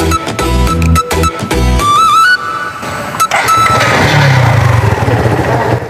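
A motorcycle engine is started and revved, a rough mid-pitched rumble rising and holding fairly loud and close, following a burst of brief tonal sounds at the start.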